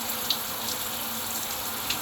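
A rain shower runs steadily with a ShowerPowerBooster SP22S pump switched on, producing a continuous hiss of falling water with a faint pump hum underneath, close and even throughout.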